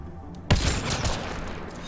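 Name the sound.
gunfire from video game Mass Effect: Andromeda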